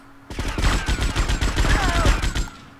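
Rapid, loud gunfire from a heavy weapon in GTA Vice City, a dense burst of shots rattling for about two seconds before cutting off, with game effects underneath.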